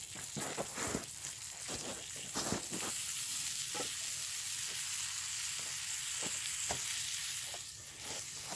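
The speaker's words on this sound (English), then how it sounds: "putting some butter in this pan and getting it on the" Butter sizzles steadily in a pan over a wood fire outdoors on a spring day, a constant close hiss with small pops and crackles scattered through it.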